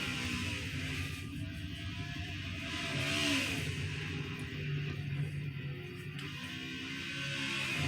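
A race car in a semifinal contest that handles badly roars along with a steady engine note, swelling and easing in a brief rev, loud and close throughout.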